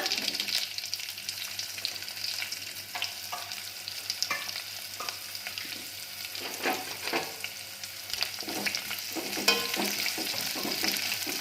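Onions fry in oil with cumin and curry leaves for coriander rice, giving a steady moderate sizzle with soft stirring scrapes and a few crackles throughout.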